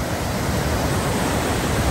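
A powerful waterfall beside Norway's Trollstigen mountain road roars as a steady, dense rush of water, loud and close, with no letup across the whole moment.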